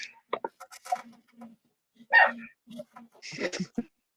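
A dog barks in the background, giving a few short, sharp yips and barks that are scattered and fairly close, with quiet gaps between them and some faint whimpering sounds.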